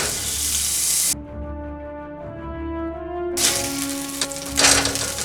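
A burger patty sizzles and spits in too much oil in a pan, a steady crackling hiss broken by a sudden gap where a tonal hum takes over before the frying noise returns.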